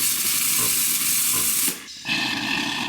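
An espresso machine's steam wand being purged gives a loud, steady close hiss that cuts out briefly, then resumes.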